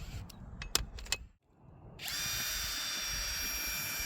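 Power drill unscrewing a railroad tie fastener outdoors on a track: a few sharp metallic clanks, a brief lull, then a close, loud, continuous high whine as the drill runs steadily to the end.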